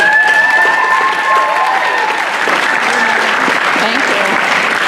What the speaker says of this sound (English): a round of applause for the audience